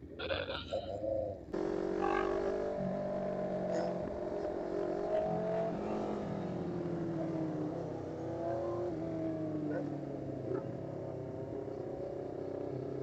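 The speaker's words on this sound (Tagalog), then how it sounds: "Grabe ang ingay ng mga exhaust nila." Loud, deep engine roar of big motorcycles rumbling and revving nearby on a road at night, exhaust noise rising and falling continuously.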